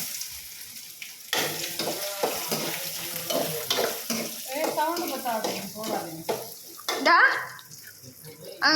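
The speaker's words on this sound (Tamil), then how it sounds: "இங்கே பாருங்க, நெய் ஊற்றி முந்திரி பருப்பு போட்டிருக்காங்க." Cashews sizzle in hot ghee in a pan while jackfruit halwa is made, a soft crackling fry with stirring, mostly under steady talking.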